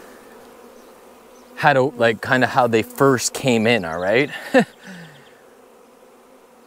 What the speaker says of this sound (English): there's still a lot of bees flying around